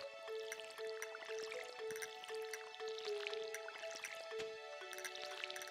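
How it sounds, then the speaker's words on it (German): A watering can waters crops in the farming video game Stardew Valley, giving soft repeated dripping, splashing game effects over a steady background melody, with no talk. "Wenn wir als erstes mal eben hier alles gießen."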